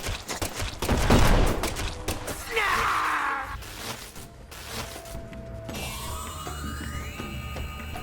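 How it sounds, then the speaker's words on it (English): Gunfire from a character's gun in Deadly Premonition 2: a loud burst of shots rattles near the start, followed by a harsh noisy blast and then mechanical whirring. "Would you fucking fire your fucking gun"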